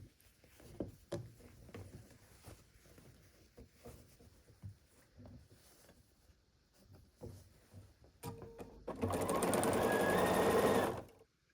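A sewing machine stitches rows of a log cabin quilt block together, first with scattered soft handling clicks and taps, then a loud, steady motor whir running for about two seconds before stopping.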